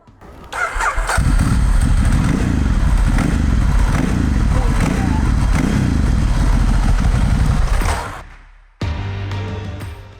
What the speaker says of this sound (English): a 2008 Ducati Hypermotard 1100S